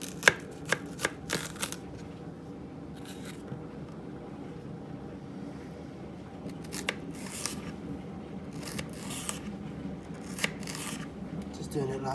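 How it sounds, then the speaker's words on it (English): Peppers being sliced for a Cajun chicken pasta, knife strokes tapping in short irregular bursts against a board, close and fairly quiet, with softer handling sounds between them. "slice up the peppers"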